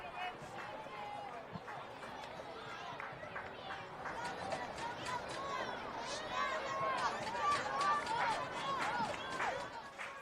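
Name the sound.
baseball crowd making noise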